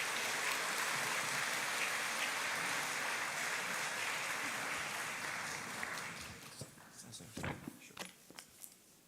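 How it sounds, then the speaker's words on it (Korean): Church congregation applauding to welcome two guest speakers, a dense wash of clapping for about six seconds that then thins out into scattered claps and shuffling. "두 분을 따뜻한 박수로 환영하며 맞이하겠습니다."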